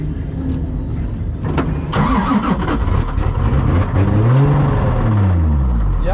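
Race car engine failing after throwing a rod, a loud, rough mechanical roar that surges and strains with shifting pitch, sputtering and laboring close by with no talk over it.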